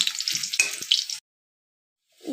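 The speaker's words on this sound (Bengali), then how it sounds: "লাল লাল হয়ে গেলে দিয়ে দেবো শাকটা ভেজে" Lafa greens frying in a pan, a close, loud sizzle with a few clatters that cuts off suddenly into silence before a faint sound returns.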